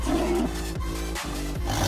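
A tiger gives deep, rumbling roars, one after another in a close, loud, continuous sequence.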